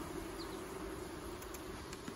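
Honey bees buzz in a dense, continuous drone while their hive is being moved, a steady close hum with no voices.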